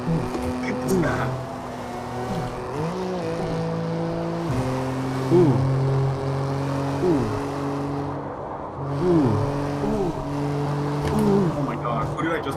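A racing car in a video game revs hard, its engine pitch sweeping up and dropping repeatedly through gear shifts, loud and continuous, with a person talking excitedly over it.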